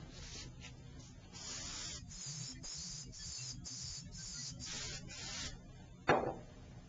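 Spray adhesive hisses from an aerosol can in a series of short, close bursts, about eight quick pulses in a row, ending with a sharper knock.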